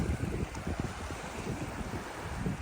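Wind blowing across the microphone, a low, steady rumble with soft gusts and a faint watery wash in the background.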